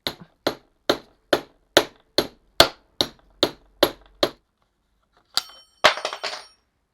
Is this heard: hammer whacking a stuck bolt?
yes